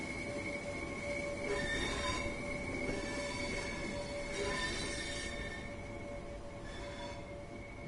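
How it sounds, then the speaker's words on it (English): A train in the Train Sim World 4 video game pulls out of a station, its wheels squealing in high, sustained metallic tones that swell and fade over a steady low rumble of rolling stock. "That's my train coming out now."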